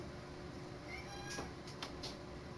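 A house cat meows a couple of times indoors against a quiet, hissy room background, the short cries faint and fairly distant.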